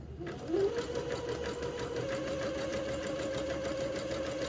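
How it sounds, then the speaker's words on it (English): A sewing machine zigzag-stitches along the raw edge of a ruffle on a Christmas dress, a steady, close, continuous mechanical whir with a rapid needle rhythm that runs unbroken for the whole stretch. "Okay, so I've got about 6 feet to zigzag."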